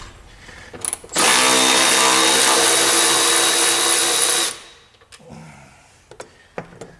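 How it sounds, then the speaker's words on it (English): A powered tool whirs loudly in one sustained burst of about three seconds while removing 15 mm bolts from a Peterbilt 567 coolant bottle, followed by quieter clinks and handling noises. "And I'm going to use this ratchet."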